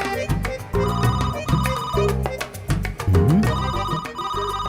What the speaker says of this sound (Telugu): మంగా ఫోన్ చూడవే.